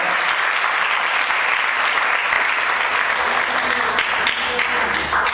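Audience applause fills an academic decathlon awards ceremony, a steady, dense wash of many hands clapping at close range that holds evenly throughout with a faint murmur of voices underneath.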